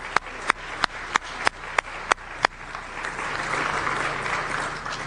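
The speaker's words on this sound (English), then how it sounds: "so a quick round of applause for her." At a technical talk, eight sharp, evenly spaced claps ring out, then a room full of hands breaks into sustained, dense applause that holds steady to the end.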